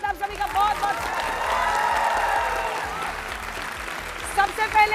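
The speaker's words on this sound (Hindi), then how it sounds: "तालियों के साथ आप सभी का बहुत बहुत" A studio audience of young people at a televised Bihar political debate applauds, the clapping swelling in the middle at moderate loudness while a presenter's voice is heard at the start and end.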